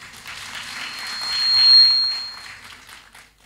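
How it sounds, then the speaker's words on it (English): Applause from a conference audience swells to a peak and then fades away, steady clapping heard from a moderate distance. "Another round of applause for him."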